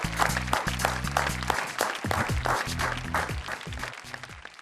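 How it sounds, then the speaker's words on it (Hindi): An audience at a Hindi shayari and poetry show applauds to welcome the poet Madan Mohan Samar, dense clapping running steadily throughout alongside loud, rhythmic stage music. "आइए हम जोरदार तालियों से उनका स्वागत करें"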